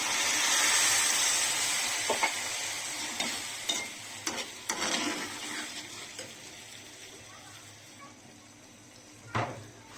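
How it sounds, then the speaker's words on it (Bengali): Egg and fried cauliflower curry sizzles in a pan while a spoon stirs it, giving scattered scraping and clinking knocks over a steady frying hiss that fades gradually. "ভেজে রাখা ফুলকপিও দিয়ে দিচ্ছি। এখন নেড়েচেড়ে একটু মিক্স করে নিচ্ছি।"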